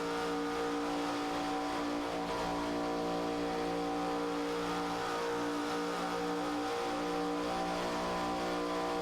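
Race car engine heard onboard at Daytona during a stock car race, a steady loud high-revving drone with strong harmonics that holds constant throughout with no talk.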